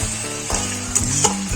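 Yogurt fish curry masala with rohu, cauliflower and potato sizzles steadily in a pan as it is fried down, with a spoon scraping and stirring through it, close and continuous, with no voices.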